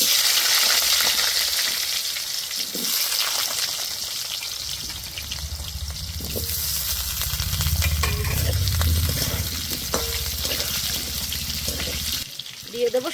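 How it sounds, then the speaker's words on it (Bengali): Potatoes frying in oil left over from frying katla fish, a steady low sizzle that rises and bubbles more strongly midway, with occasional stirring clinks and no talk. "মাছ ভাজা তেলে আমি আলুগুলো ভেজে নেব।"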